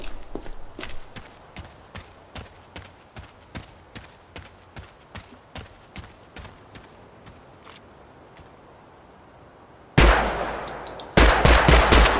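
Video game weapons test firing 5.56 and 30-06 rifles, a long series of sharp evenly spaced single gunshots over a quiet background, then two much louder, denser bursts of fire at the end.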